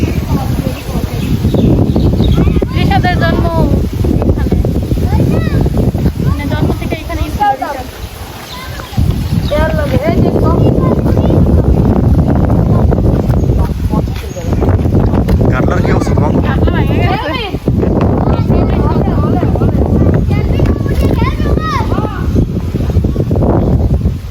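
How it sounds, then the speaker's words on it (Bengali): Strong wind buffets the microphone in a constant loud roar, with people talking throughout and a brief lull partway. "প্রচুর বাতাস আসতো সবসময় দেখেন কি পরিমাণ বাতাস"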